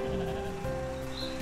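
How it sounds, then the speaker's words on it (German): Sheep bleating in the video game Gleisbau-Simulator 2014: a sustained, fairly loud nasal bleat filling the moment, with another bleat starting partway through over a steady low background hum. "Sag mal, Schafe, könnt ihr nicht endlich mal die Fresse halten?"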